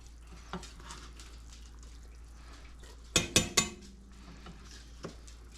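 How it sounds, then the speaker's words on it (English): Chopped vegetables dropped into a soup pot in a home kitchen, three quick clattering thumps close together midway, with a few fainter knocks before and after against a quiet background. "Now that these are cut up, I'm going to put them directly into the pot."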